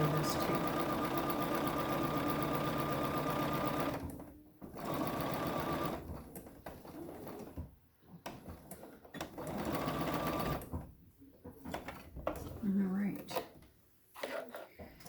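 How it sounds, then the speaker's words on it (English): A sewing machine back stitching a pillowcase seam, running in steady mechanical bursts that stop and restart several times, with short quiet gaps between runs. "And I'll back stitch at the end of this too."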